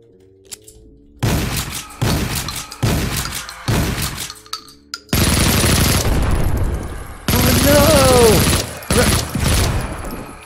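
Repeated heavy shotgun blasts in the retro shooter Project Warlock, loud and close, first as separate spaced shots, then a dense burst of rapid fire with metallic clinks and breaking-glass debris.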